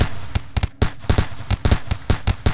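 Rapid gunfire from a RimWorld battle with sandbag cover, sharp loud cracks in quick irregular bursts and clusters, close and dense, standing alone without speech.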